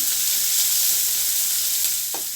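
Onion and garlic sauté in oil in a pan, with mustard seeds and fenugreek already added, giving a loud, steady, close sizzle throughout and a single faint stir or scrape near the end.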